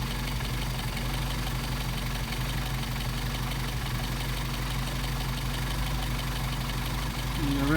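A Mercedes 190SL fitted with Solex carburetors idles in cold weather, a fairly faint, steady engine hum that holds even throughout.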